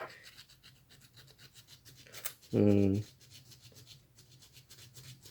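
Faint repeated scratchy rubbing of sandpaper on a plastic part for a Tamiya M05 RC chassis, with one louder harsh tonal burst in the middle; a voice murmurs briefly.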